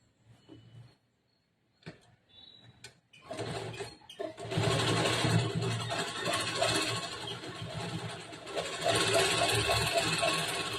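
Sewing machine stitching the side seam of a blouse: a few brief mechanical bursts, then a loud, steady, close-up whirring run of rapid stitches that continues to the end.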